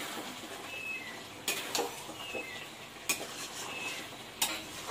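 Chicken being stirred with ground garam masala in a pan for a Punjabi-style chicken kosha, a steady soft sizzle under repeated scraping strokes and a few sharper spoon knocks on the pan, with no talk.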